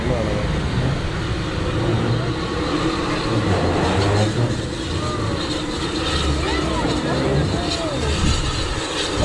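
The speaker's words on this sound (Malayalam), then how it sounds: "വളരെ പഴകിയ ഒരു കൽക്കരി തീവണ്ടി," An old coal-fired steam train near Lake Windermere in England gives off a loud, continuous mechanical rumble and hiss, with voices of people nearby mixed in.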